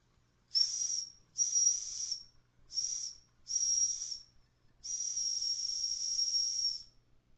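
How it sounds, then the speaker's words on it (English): Toy steam engine running, letting off five bursts of high hissing steam whistle, four short ones followed by a longer steady blast, with near silence between them. "a little bit of steam coming out"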